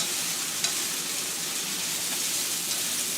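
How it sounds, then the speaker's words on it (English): Chinese noodles with green onions stir-fried in a pan give a loud, steady close sizzle with faint scraping of stirring throughout, no voices. "Just mix the noodles up pretty well. Give it a final stir fry."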